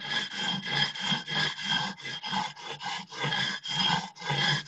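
A dull hand saw cuts through a handmade clay brick in a home ceramics setting, making a steady run of loud, rasping back-and-forth strokes, about two per second, with no talking.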